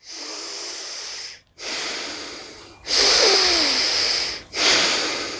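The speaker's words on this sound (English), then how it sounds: "So then we do that breathing up higher." Four long, deep yogic breaths are drawn into the upper rib cage, each a loud airy hiss separated by short pauses, with the later inhales fuller and slightly wheezy.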